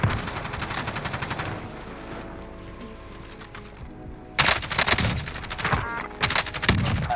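Call of Duty Warzone gunfire comes in loud, rapid automatic bursts: sustained fire at the start, a brief lull, then heavier, closer bursts that continue to the end.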